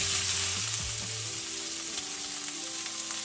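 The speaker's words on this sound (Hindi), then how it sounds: "अभी हम फ्राई करेंगे शैलोट्स," Shallots, ginger and garlic frying in a pan, a steady bright sizzle with a brief stir near the start, close and continuous with no talking.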